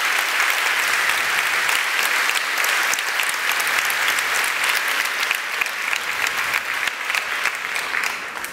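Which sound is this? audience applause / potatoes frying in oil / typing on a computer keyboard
audience applause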